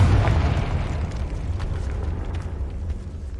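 A blasting explosion from the Confringo spell in Hogwarts Legacy, set in catacombs, opens with a loud booming burst that decays into a rumbling roar over a few seconds.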